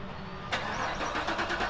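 A C6 Corvette Z06 fitted with a Corsa Xtreme exhaust barks to life about halfway through, the starter catch jumping into a loud, rumbling idle that stays steady and close to the end.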